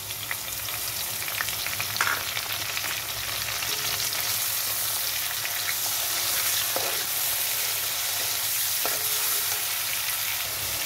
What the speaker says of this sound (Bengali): এরপর আমি এই চিংড়ি মাছটা দিয়ে দিলাম।